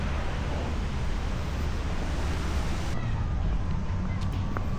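Strong wind buffets the microphone in a constant, heavy roar at a park playground in Auckland, New Zealand, with a faint rushing background and no clear voices.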